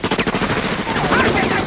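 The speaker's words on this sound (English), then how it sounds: "All the shooting!" Film gunfire rattles off in rapid bursts, like machine-gun fire, at moderate volume over a brief stretch.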